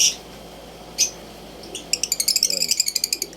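African lovebirds in a cage, including a Lutino hen, give a couple of sharp chirps followed by a rapid series of short, bright, repeated tweets close by.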